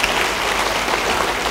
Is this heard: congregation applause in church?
yes